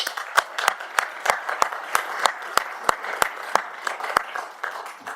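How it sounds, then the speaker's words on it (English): Sparse applause at a council meeting, a small group clapping in distinct, fairly evenly spaced sharp claps, close and clear rather than a dense crowd roar. "So I think those guys deserve a round of applause for that."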